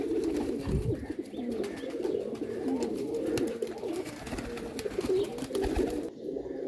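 Female flying pigeons cooing steadily on a rooftop, a low continuous layered cooing from several birds close by, with no talk.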